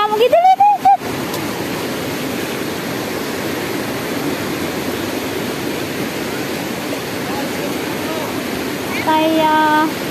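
Floodwater rushing steadily through a flooded field after light rain, a constant broad roar from start to end, with brief voices and shouts at the start and near the end.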